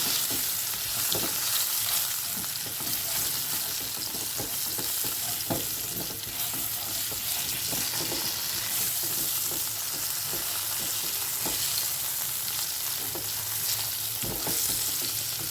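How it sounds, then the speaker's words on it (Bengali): Potato pieces frying in a pan with salt and turmeric, a continuous dense sizzle with occasional stirring scrapes, close and steady with no voices. "আলুটাকে আমি খুব ভালো করে ভেজে নেব"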